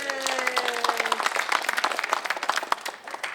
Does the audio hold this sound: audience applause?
yes